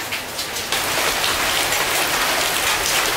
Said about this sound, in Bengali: তার সাথে ভালো মেঘ জমে আসছে, আরও জোরে আসবে বৃষ্টি।